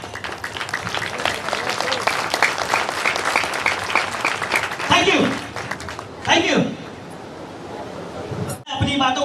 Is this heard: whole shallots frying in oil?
no